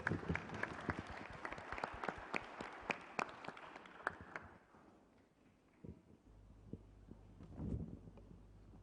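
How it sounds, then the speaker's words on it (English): Audience applause at a plenary session of a conference on ecological restoration: a dense, steady clapping from a large crowd that thins out and fades after about five seconds, leaving quieter room noise with a few scattered claps. "Can we please give him a big round of applause?"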